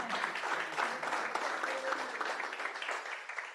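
Steady applause from an audience at the opening of an academic seminar and conference, a dense, continuous wash of clapping that holds evenly for several seconds before tapering off at the end.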